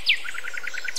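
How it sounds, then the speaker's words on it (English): Bird chirps from the video game Tree Simulator 2013: a quick downward whistle followed by a steady run of about eight short, evenly spaced tweets, fairly close and clear, with no talking. "I could just do a family of birds sat in my branches, enjoying the sunshine"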